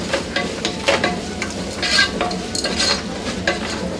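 Masala paste frying in a pan for a radish stir fry, a steady close sizzle broken by repeated scraping strokes of a stirring spoon, with no voices.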